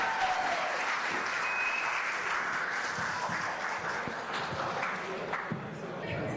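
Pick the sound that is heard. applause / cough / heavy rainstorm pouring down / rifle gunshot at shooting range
applause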